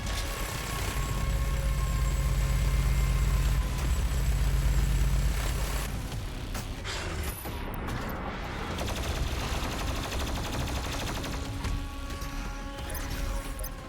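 Heavy gunfire from the first-person shooter DOOM Eternal, with rapid automatic bursts and loud crashing impacts over dense game noise and music, continuing at high intensity throughout.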